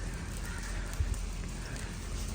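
Rain falls steadily in a constant hiss of drops, close and even throughout, with a couple of low thuds near the middle.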